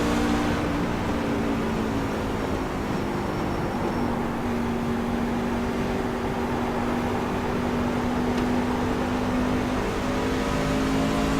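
Racing truck engines drone steadily in an iRacing NASCAR Camping World Truck Series race, a continuous loud engine roar with sustained harmonic pitch lines and a slight rise in tone, no voices over it.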